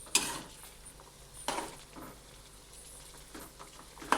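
French fries fry gently in oil over a low gas flame, giving a soft, faint, steady sizzle broken by a few light clinks and stirring knocks.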